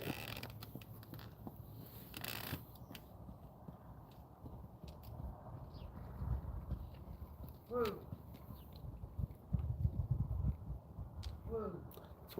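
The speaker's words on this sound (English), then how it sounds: "That's why she's got such a nice clop clop." A horse at a rescue facility moves during a training session, its hooves giving soft, sparse clip-clops against quiet, faint background noise.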